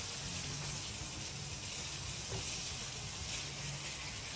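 Masala spices fry in a pot for chana pulao, a continuous faint hiss and sizzle that stays steady throughout with no speech.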